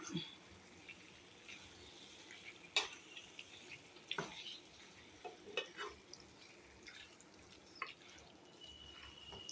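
Chicken curry frying in a pan is stirred, with faint sizzling and scattered light scrapes and taps of the spoon against the pan in a quiet room.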